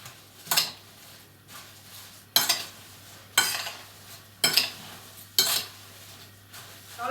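Gluten-free apple crumble ingredients stirred in a bowl, five scraping strokes spaced about a second apart, each a brief gritty swish, close and clear over a quiet background.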